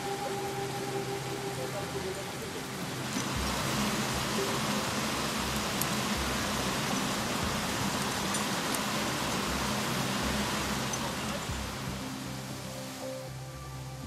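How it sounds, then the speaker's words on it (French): Steady, dense roar of a 40-metre canyon waterfall fills the whole stretch, a constant broadband wash, loud and unbroken. "les jeunes arrivent à la deuxième cascade de 40 mètres"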